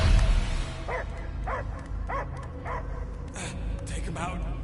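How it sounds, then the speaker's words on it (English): A dog gives a rhythmic series of four or five short, yelping barks and whines over a constant rumbling, noisy background, followed by a few fainter, scattered yips. "I hear only barking."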